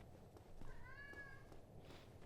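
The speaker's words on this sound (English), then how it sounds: "You might be able to hear my cat meowing." A pet cat, a female sitting on top of a computer, lets out a single drawn-out meow in the middle, fairly quiet against a low steady background hum.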